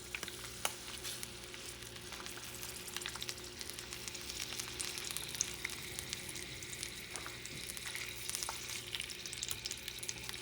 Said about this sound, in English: I'm going to cook the longaniza, which is in Spanish, but in English is the sausages